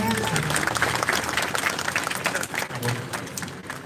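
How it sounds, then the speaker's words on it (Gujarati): Audience applause rises at a primary school retirement farewell ceremony as schoolgirls come forward to welcome guests, steady broad clapping filling the room under a voice speaking over it. "આપણે તાળીઓથી વધાવીશું"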